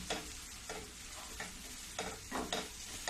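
Stuffed bitter gourds cooked with mango sizzle in a pan while a spoon stirs them in a few rhythmic scraping strokes over a constant close frying hiss.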